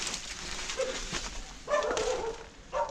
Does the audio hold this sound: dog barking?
yes